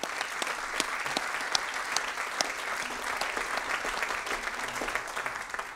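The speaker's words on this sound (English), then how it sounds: "give them a massive round of applause" A concert audience at a live ceilidh at Eden Court gives a sustained round of applause, a dense, even wash of clapping with a few sharper claps standing out, heard from within the hall.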